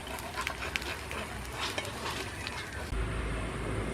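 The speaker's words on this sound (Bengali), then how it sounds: "চারিদিকটা একটু খুন্তি দিয়ে এইভাবে একটু নাড়িয়ে নেব" A spatula stirs and scrapes ripe-mango patishapta batter in a hot pan, making close, irregular scraping and clinking over a soft steady sizzle.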